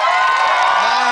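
A concert crowd in Scillato roars with cheering, whoops and shouts in one continuous, loud, dense burst of voices, with applause blended in.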